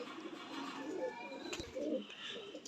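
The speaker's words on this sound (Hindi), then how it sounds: "बड़े तीखे किस्म के कबूतर हैं" Pigeons coo softly nearby in a couple of low throaty bursts, with a faint click in between and quiet background.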